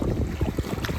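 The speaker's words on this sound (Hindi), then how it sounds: "हवा चल रहा है ना इसलिए ठंड ज़्यादा लग रही है।" Outdoor wind beside a pool buffeting the microphone, a continuous low rumbling roar that stays loud and close for the whole moment.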